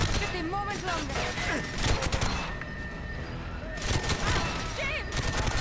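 Sustained gunfire bursts and loud impacts in the video game GoldenEye Reloaded, with speech and a warning voice mixed in and overlapping throughout.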